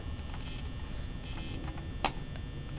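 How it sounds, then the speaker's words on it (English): Quick, light clicking and tapping from a computer mouse and keys during a tense Five Nights at Freddy's game session, a steady patter of small ticks with one sharper click standing out. "Fast reaction timing on mouse clicking."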